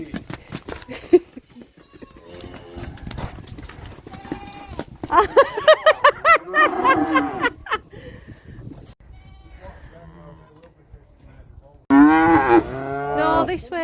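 Calves on a farm mooing repeatedly, loud and close, with long drawn-out calls coming in several bursts and quieter gaps between them, while people talk faintly in the background.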